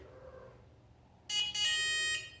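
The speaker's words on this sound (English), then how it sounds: "when that beeps, then you have to hold it against the skin" A Tria hair removal device gives a bright electronic beep when ready, a short tone followed by a longer sustained one, close and clear after a quiet pause.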